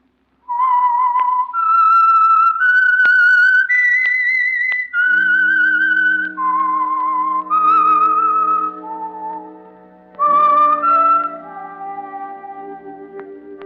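A person whistles a slow, wavering melody alone, loud and close, each note sustained, with a soft instrumental chord entering partway and fading under the tune, as an old-time radio program signature.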